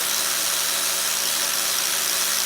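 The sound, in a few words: grinder with coarse grit touching up an Axis deer hide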